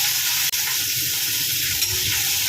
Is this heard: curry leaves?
yes